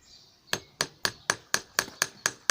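Copper wire hammered on an anvil, eight sharp metallic strikes in an even rhythm, close and clear with brief ringing after each blow.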